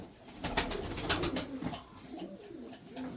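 Racing pigeons coo in low, soft rolling calls close by, amid a burst of wing flapping or fluttering, with no clear talking.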